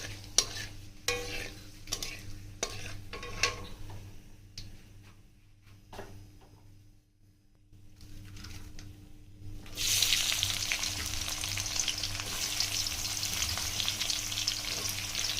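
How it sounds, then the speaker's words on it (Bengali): Chopped onions drop into hot oil with chili, bay leaf, cinnamon and cardamom for chicken curry; after quieter stirring, a loud, dense, continuous sizzle takes over, close and without talk. "পেঁয়াজগুলো হালকা লাল লাল করে ভেজে নেব।"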